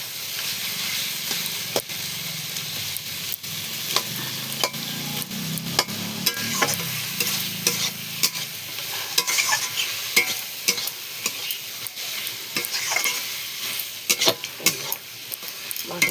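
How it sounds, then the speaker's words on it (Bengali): Whole garam masala, bay leaves and dried red chilies sizzle in hot oil for a Bengali moong dal and fish-head muri ghonto, with steady frying crackle and occasional sharp stirring scrapes, close and continuous throughout. "শুকনো লঙ্কা ফোড়ন দিলাম।"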